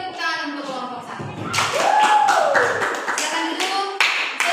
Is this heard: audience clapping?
yes